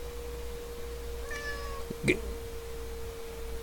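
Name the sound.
cat meowing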